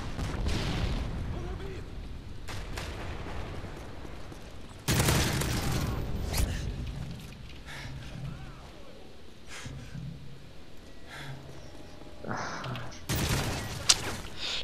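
Gunfire in Modern Warfare 3 on a small multiplayer map, bursts of loud shots and blasts at intervals over continuous game noise, with someone talking in between.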